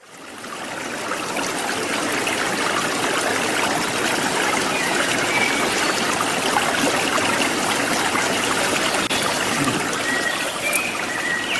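Flowing river water rushes and trickles steadily throughout, a dense continuous wash of sound with no voices.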